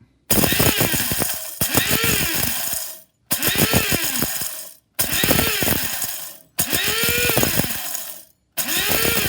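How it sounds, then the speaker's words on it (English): An electric spice grinder blitzes fennel seeds in a series of loud, whirring bursts, each a few seconds long and separated by brief pauses, with a rattling, gritty texture from the seeds inside. "I'm going to put them in the spice grinder just to break them up a little bit"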